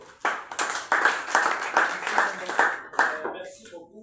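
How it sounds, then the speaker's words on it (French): An audience at a tenth-anniversary celebration in Kananga claps in a series of sharp, close bursts for about three seconds before the clapping thins out and fades. "est-ce qu'on peut d'abord applaudir pour le cordeau?"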